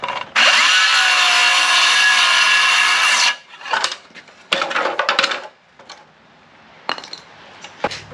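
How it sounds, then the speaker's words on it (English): A Bosch 18V cordless saw cuts a 27-degree bevel in wood: a loud, steady whine for about three seconds, then a few shorter bursts and clattering knocks as the cut finishes. "So I'm going to have a go cutting a bevel with the saw."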